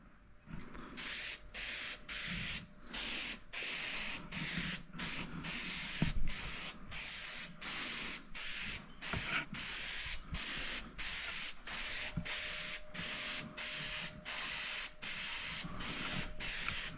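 Filler primer sprayed in a very light dusting coat onto a Yamaha G1 golf cart body: a long run of short, evenly spaced hissing bursts, close and steady, with no talking.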